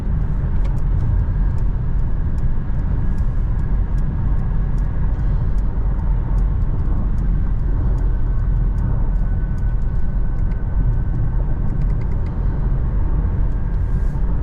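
Inside a Mercedes-Benz GLC300 4MATIC cruising on a highway at about 120 km/h, a steady low road and engine drone fills the cabin, constant and unbroken, with faint ticks and no talk.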